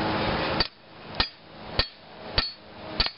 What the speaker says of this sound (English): the hotter the knife is, or the spike, the easier it is to hammer